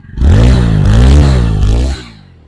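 A 2021 TVS Apache RTR 160 4V motorcycle engine self-starts close and loud, revving for about two seconds before dropping back and cutting off.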